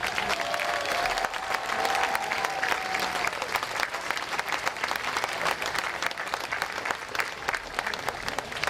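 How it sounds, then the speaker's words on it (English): Audience applause for Rosemary at an Elvis tribute show, a steady wash of clapping from a large crowd that holds loud and dense for the full stretch, with a brief whistle-like tone early on. "So please, a round of applause from Rosemary"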